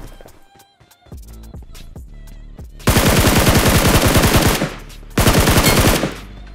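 Automatic gunfire in the BGMI battle royale game, a few scattered shots followed by two long, loud sustained bursts of rapid fire, up close, with no talk.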